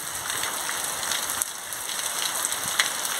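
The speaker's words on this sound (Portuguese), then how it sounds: "Chuva intensa aqui na cidade de Lapão." Heavy, wind-driven rain pouring on a city street in Lapão, Bahia, at night: a dense, steady hiss of falling water with scattered close drips and splashes, no voices.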